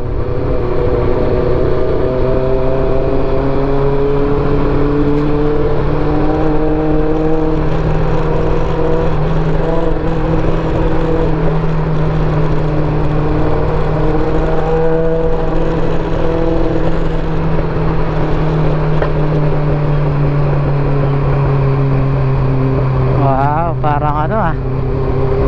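A Honda CB400 Super Four motorcycle rides a rocky, broken road near the Mungayang Kiangan rice terraces. Its engine gives a steady, loud drone that shifts slightly in pitch, with wind rush throughout.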